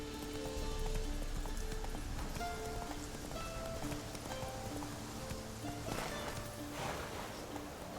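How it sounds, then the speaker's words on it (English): Roach, a horse in The Witcher 3 video game, gallops with a steady, rhythmic clip-clop of hooves alongside rain-like patter and game sounds. "Run, Roach"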